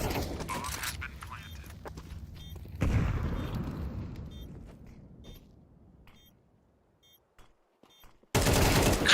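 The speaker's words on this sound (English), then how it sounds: "Just sitting next to it and spraying, sending bullets into that smoke." Automatic rifle fire sprays into smoke during a Counter-Strike match, with rapid loud bursts at the start that fade into scattered shots, then a sudden loud burst at the end.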